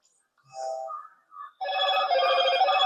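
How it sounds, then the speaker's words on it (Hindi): A phone ringtone starts with a few short tonal notes, then breaks into a loud, sustained electronic ringing melody that carries on to the end. "फोन आ रहा है कहाँ?"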